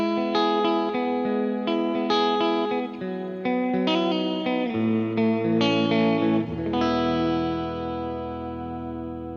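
Electric guitar played through an echo tank effect on a Fender Tone Master Pro, notes and chords drenched in repeating echoes, each phrase trailing off into a long, fading tail; no voices.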